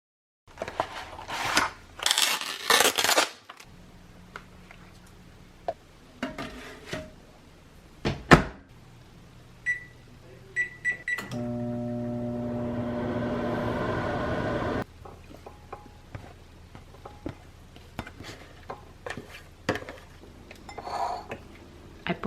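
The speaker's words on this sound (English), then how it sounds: "you also can microwave the meal, so that's what I'm gonna do" A microwave oven heats a packaged Factor meal, with a steady hum running for a few seconds amid scattered clicks, beeps and handling noises from a quiet kitchen.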